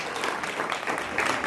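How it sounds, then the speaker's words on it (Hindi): Steady applause from an audience at a senior-category school science quiz competition, cheering a Government Senior Secondary School team; dense continuous clapping at even loudness throughout, with no speech. "Abhay and Anuj government senior secondary school कोटिगोस के लिए जोरदार तालियां"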